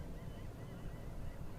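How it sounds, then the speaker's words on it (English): Seagulls flushed along a bay in Rockport, Texas, give a continuous jumble of distant squawking cries, blended with wind and low background rumble. "Someone's scaring up the seagulls."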